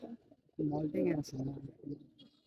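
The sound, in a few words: male Bagha pigeon cooing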